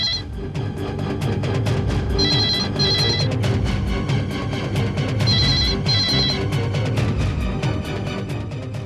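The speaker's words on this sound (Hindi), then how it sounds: "मुझे पूरा यकीन है मिस्टर लाल कि वो आपको फोन बहुत जल्द करेगा और जरूर करेगा" A telephone rings in a crime drama's kidnapping scene, with two separate bursts of trilling rings a few seconds apart, heard under a dramatic music score.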